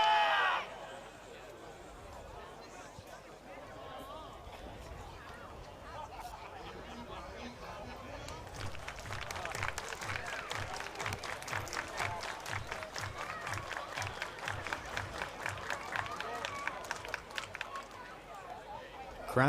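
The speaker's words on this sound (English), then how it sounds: "Crowd cheering on Travis Blackley" A baseball crowd cheers and claps for pitcher Travis Blackley in a Geelong-Korea game at the Brisbane Bandits, soft chatter giving way to a swelling burst of rhythmic applause, with a commentator talking throughout.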